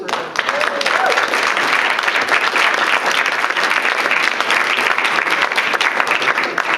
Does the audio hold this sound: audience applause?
yes